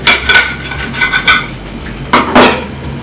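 A knife cuts open Nigerian egg rolls on a plate, making a string of close, bright metallic clinks and taps as the blade strikes the dish, in irregular bursts.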